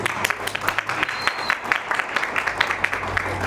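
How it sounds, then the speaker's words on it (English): Audience applause at a 2025 roundtable discussion welcoming a panelist to the stage, a few seconds of steady, dense clapping from a moderate crowd. "Let's give her a round of applause."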